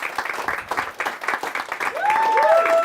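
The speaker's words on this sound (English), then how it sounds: "One more round of applause for Elliot Kay." Audience at a presentation club night gives another round of applause in uneven bursts of clapping, joined near the end by a rising whistle-like tone.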